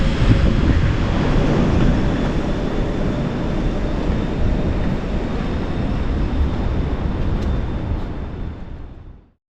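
A suspended monorail train at a station in Chiba, Japan, passes overhead with a loud, broad, rushing rumble that holds steady and then fades out quickly near the end, heard from below the station.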